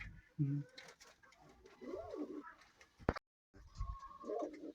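Pigeons coo in soft, rounded bursts close by in a pigeon loft, with a few muffled voices and brief rustling between the calls.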